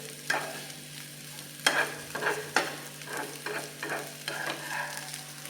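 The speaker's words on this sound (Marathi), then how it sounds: "एक साधारण दोन मिनटं आपण छानपैकी हे परतून घेऊयात" Paneer pulao rice is stirred and sautéed in a pan, a steady sizzle under repeated scraping strokes and spoon knocks against the metal, close and fairly loud, with no talking.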